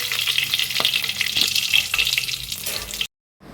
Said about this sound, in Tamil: சோம்பு கொஞ்சோண்டு போட்டுக்கோங்க போட்டுட்டு இது நல்லா வந்து பொரிய விடுங்க